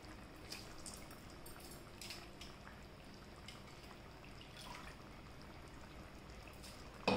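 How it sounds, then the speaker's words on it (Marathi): Washed, unsoaked home rice is poured into a cooking pot in a home kitchen, making a faint, soft patter of grains with a few light clicks, low against a quiet background. "आता आपण याच्यात तांदूळ जे आपण घेतलेत ते घालायचे आहेत।"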